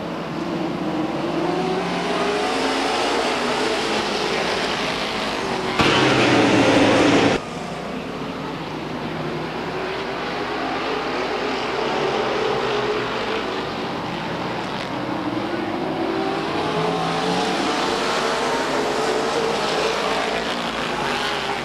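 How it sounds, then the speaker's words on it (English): Race cars at Stockton 99 Speedway roar past in a steady loud engine drone, with one brief surge as a car passes close before the sound settles back to a continuous distant hum of racing. "And back on the track in the 10 cars, Jay Lindstrath."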